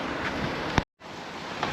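Blustery wind by the sea in Palmanova, Mallorca, buffets the microphone in a steady rush, briefly cutting out for a moment before resuming.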